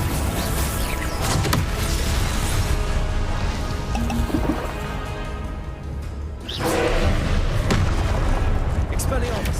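Spell blasts from the Confringo fire spell boom repeatedly in Hogwarts Legacy, loud and dense, with rumbling explosions and crackling debris under continuous game noise and a voice talking.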